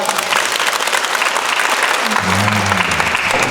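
A big crowd at a Thai public event claps harder and louder, a thick continuous roar of applause, with a voice starting to speak over it near the end.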